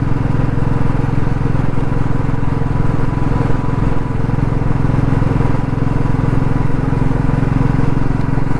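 A motorcycle cruises along a road below about 60 km/h, its engine droning steadily and loudly close by, with a constant pulsing hum and wind rush throughout and no speech.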